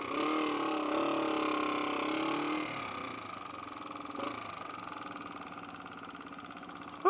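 Motorcycle engine idling and running steadily during a riding class, a constant mid-pitched drone that drops slightly in level partway through, with a brief bump near the end.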